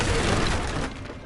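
A fire spell is cast in the Hogwarts Legacy video game, giving a loud, dense burst with a shattering, crackling quality that fills the whole second and then eases slightly near the end.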